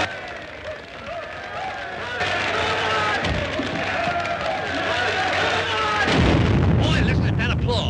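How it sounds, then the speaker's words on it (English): Audience applause at a conference in a comedy sketch, a dense, continuous rush of clapping that grows louder toward the end, with voices talking over it. "Boy, listen to that applause."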